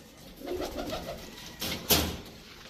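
A male red-necked pigeon coos close by in a few low, rolling murmurs, followed by two short sharp bursts like wing flaps or scuffles near the end.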